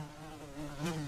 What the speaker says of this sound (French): Une mouche s'est posée sur le tableau noir.